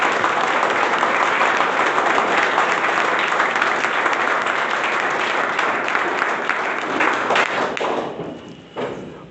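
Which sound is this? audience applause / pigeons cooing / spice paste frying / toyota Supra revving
audience applause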